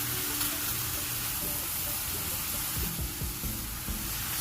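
Onions and minced garlic sizzle steadily in a pan for curry meat pie filling, a continuous close frying hiss with occasional soft stirring knocks and no talk.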